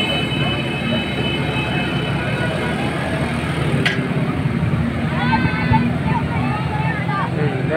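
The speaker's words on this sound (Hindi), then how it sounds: "फ़्लाइट देखने का मज़ा आ रहा है" A small passenger aircraft drones steadily in flight on a short scenic ride of about four minutes, with a constant engine hum, a brief click near the middle, and faint voices murmuring underneath.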